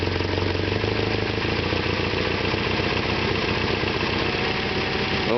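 A 2.6-litre Isuzu 4ZE1 engine idles steadily and loudly up close, its rhythmic mechanical chatter continuous while the distributor body is rotated, with the idle tone shifting slightly toward the end.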